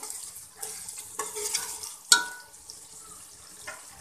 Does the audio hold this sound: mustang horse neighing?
no